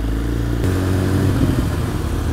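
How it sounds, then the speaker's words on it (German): A loud motorcycle engine rumbles up close, holding a steady roar that shifts in tone partway through as it revs and clatters. "ich fühle mich so asozial mit diesem Motorrad hier"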